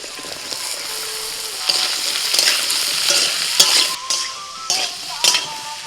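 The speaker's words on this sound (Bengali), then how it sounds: "আলুটা ভাজা হয়ে গেছে, এবার দিয়ে দিচ্ছি পেঁয়াজ," Onion, pointed gourd and eggplant fry in oil alongside potatoes, a continuous close sizzle broken by repeated scraping stirs of a spatula against the pan, with sharp clinks and no talking.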